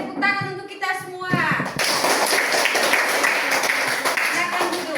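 A classroom of students breaks into clapping for a few seconds during an Indonesian-language lesson, preceded by a teacher's voice and a brief chanted phrase, with applause and chatter continuing underneath.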